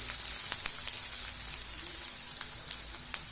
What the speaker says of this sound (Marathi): कांदा चांगला लालसर होईपर्यंत परतवायचा तेलामध्ये.